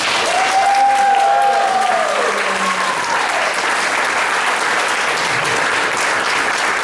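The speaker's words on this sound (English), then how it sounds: "Let's have a round of applause for those early residents who made it all possible." Audience in a community hall at a 100th anniversary celebration gives loud, sustained applause that fills the room, with a voice briefly audible over the clapping near the start.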